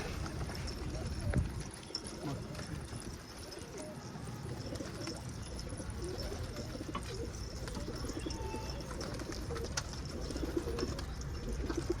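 Many pigeons coo and flutter together in an enclosed space, with a constant busy background of bird noise and occasional soft thumps.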